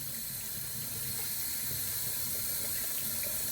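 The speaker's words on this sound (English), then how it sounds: "Pardon the water sound." A bathroom tap runs steadily during a shave, a close, constant hiss of flowing water into a sink with no breaks and no talking.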